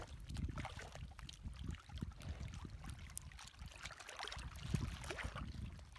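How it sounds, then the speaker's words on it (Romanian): Small lake waves on Lake Mojave lap against rocks, faint irregular splashes and gurgles repeating over a quiet background. "sunt valurile care se lovesc de stâncă"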